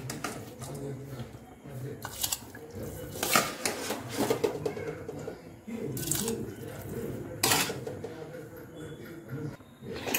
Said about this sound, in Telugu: ఇలా బాగా మరిగిన తర్వాత ఇందాక మనం పెసరపప్పు బియ్యంని ఇలా వేసుకోవాలి